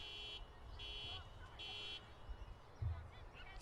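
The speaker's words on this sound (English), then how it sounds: "As someone's car alarm goes off in the car park." A car alarm goes off in the car park beside a women's football match, a faint, distant electronic tone pulsing in regular bursts under low crowd and field ambience.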